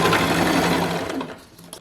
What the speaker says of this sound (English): you definitely want to do some back stitching or finishing so that these don't unravel